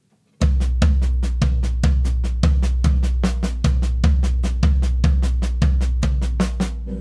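A drummer's hands play a steady five-note grouping on the kit, with crisp evenly spaced strokes and a recurring accent. The strokes sound loud and close and continue without pause and without talk.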